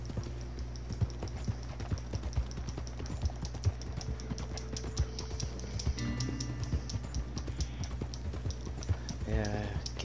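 Horse hooves pound in a steady galloping rhythm during a ride in Red Dead Redemption 2, close and continuous beneath a game music bed, with a brief voice near the end.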